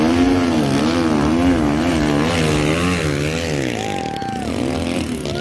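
Racing motorcycle engine running loud and close, its pitch wavering up and down with throttle blips, steady throughout with no talking.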